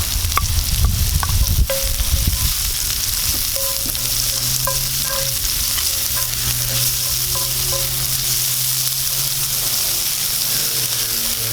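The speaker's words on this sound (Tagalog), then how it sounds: "Isunod ko na po itong ating luya." Sliced ginger sizzles steadily in hot oil in a pan with squid and spinach cooking, while a utensil scrapes and stirs in brief clinks near the start; loud and close, with no talking.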